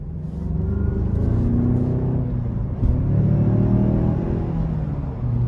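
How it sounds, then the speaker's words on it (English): A 2021 Mazda CX-9 Touring Premium with its 2.5-liter turbocharged engine and front-wheel drive accelerates hard out of a corner, giving a steady, loud engine rumble and whir that rises in pitch throughout, with no one talking. "I tried to give it a little throttle coming out of that corner there"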